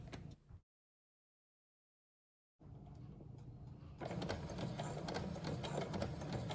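A sewing machine stitches fabric for a cloth face covering, starting with a brief whir, pausing in silence, then running steadily and close, growing louder and faster with a dense mechanical rattle.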